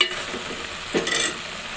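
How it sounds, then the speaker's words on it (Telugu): Okra fries and sizzles in hot oil with a steady hiss. A brief stirring scrape sounds partway through. "ఈ ఆయిల్లోనే బెండకాయని బాగా కొంచెం పచ్చి వాసన పోయే వరకు ఆయిల్లో బాగా మగ్గనివ్వండి"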